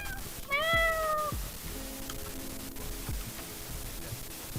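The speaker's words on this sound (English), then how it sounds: "Cute little kitty." A cat gives one clear, rising-and-falling meow up close near the start, followed by quieter rustling and a soft background hiss.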